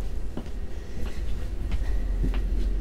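Inside a carriage of a moving Polish InterCity train, a steady low rumble carries faint rhythmic clicks from the wheels on the rail joints at regular intervals, with no talking.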